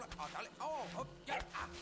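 A cartoon dog in the video game Axel & Pixel gives a few short yelping barks, mid-loud, mixed with game sounds and music.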